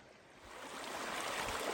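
A mountain creek beside a hiking trail near a meadow gives a steady broadband rush of flowing water that swells louder over the second or so, with no voices.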